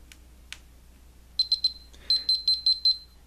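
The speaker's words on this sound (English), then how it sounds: "You will hear a series of beeps to indicate that the unit is running." Two faint clicks as an electronic monitor unit's start button is pressed, then a run of three short high beeps, a pause, and a steadier series of six more beeps, clear against near silence.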